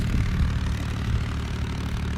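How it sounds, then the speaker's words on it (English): A small old red tractor passing by outdoors, its engine a steady low chugging rumble that stays fairly loud and continuous throughout, with no talking. "If you wonder what that noise is, that's a little old red tractor that's just coming by."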